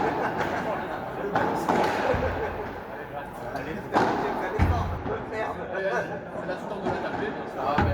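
A padel smash during a P250 tournament final lands as a sharp, solid thud. A few other hits punctuate steady crowd chatter, and people talk throughout.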